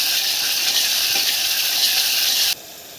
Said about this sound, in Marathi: आणि त्यामध्ये हळद चवीनुसार मिरची पावडर ही सुद्धा छान फ्राय करायची